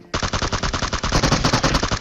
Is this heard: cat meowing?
no